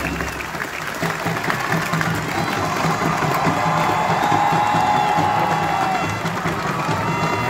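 A large outdoor crowd at a Nigerian military and cultural display claps and cheers steadily, with whoops and shouts rising through a dense, continuous wash of applause.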